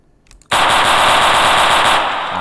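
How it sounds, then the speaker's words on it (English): A short quiet lead-in gives way to loud, sustained rapid-fire automatic gunfire in a Roblox NYC street game, a dense continuous burst lasting nearly two seconds with no talking. "not used to the shooting yet"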